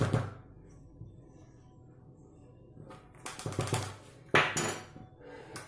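A teaspoon scoops and clinks against dishes while making a fishing bait from oilcake, a few faint scrapes followed by two louder bursts of clattering near the end.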